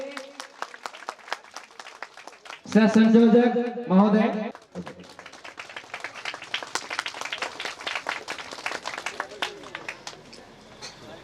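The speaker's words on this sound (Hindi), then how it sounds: "क्या माला के साथ थोड़ी तालियां बजनी चाहिए।" A crowd applauds at a Kali Puja stage event in 2020: someone speaks briefly over a microphone, then sustained, fairly close clapping from many hands fills the rest of the clip.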